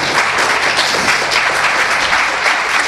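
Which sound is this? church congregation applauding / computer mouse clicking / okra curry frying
church congregation applauding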